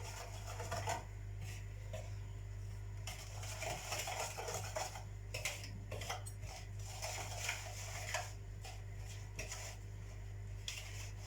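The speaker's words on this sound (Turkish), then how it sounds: "Böyle topaklık falan kalmadan karıştırıyoruz." Continuous clinking and scraping of a utensil stirring soufflé batter in a bowl, steady and close, with a low hum underneath and no talking.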